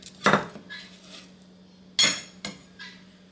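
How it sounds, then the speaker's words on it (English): Tofu noodles placed into a bowl-like plate make a few sharp clinks and knocks of utensil on dish, two louder strikes with softer taps between and near silence otherwise. "I'm going to place it in this bowl, in this plate."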